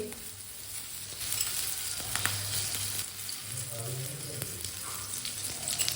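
A pizza paratha fries in oil on a pan, giving a steady close sizzle with light crackle, and no voice is heard.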